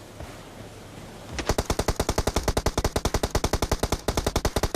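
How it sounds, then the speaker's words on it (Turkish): M762 rifle firing in a video game, a loud sustained burst of rapid, evenly spaced shots that starts abruptly and runs for over three seconds with only a brief gap. "Şunu vurmam lazım. Vurdum vurdum."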